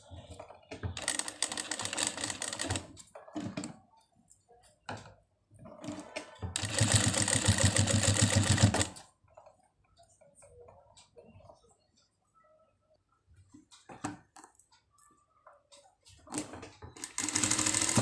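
A sewing machine stitches potli buttons onto fabric in two loud, steady bursts of whirring, separated by quieter handling sounds and pauses.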